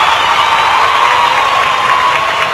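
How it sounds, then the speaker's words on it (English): Steady applause from an audience, a continuous even wash of clapping at constant loudness with no voices over it. "Here comes some applause."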